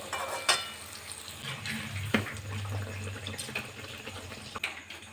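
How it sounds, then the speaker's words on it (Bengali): Mango malpua (sweet pancakes) frying in oil over medium heat, a soft continuous sizzle with a few light clinks of a utensil, steady and fairly quiet. "আঁচটা অবশ্য মিডিয়ামে রেখে ভাজতে হবে।"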